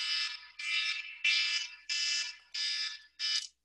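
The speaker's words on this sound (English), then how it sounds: "Sorry for my alarm, it's 2:30 now." Six rapid, shrill electronic alarm beeps repeat in a steady pattern, each a harsh buzzing burst separated by short gaps, loud and close with no talking.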